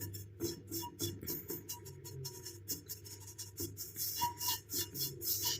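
A ladle stirring roasted powder in a pan, making continuous soft scraping and rubbing sounds with faint knocks, close and fairly quiet.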